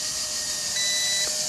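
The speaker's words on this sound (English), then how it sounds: "You have a long beep." A WLToys V333 quadcopter remote emits a single steady electronic beep, held for about half a second, when switching into headless mode outdoors, heard over constant broadband background noise.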